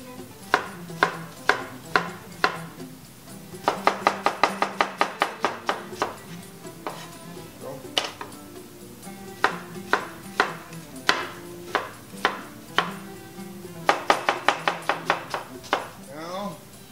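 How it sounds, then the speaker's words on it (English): Onion being diced with a knife on a cutting board, sharp close chops in quick bursts of rapid strokes with short pauses between them, and no talking. "going to prep our onion for this dish and prep also our parsley"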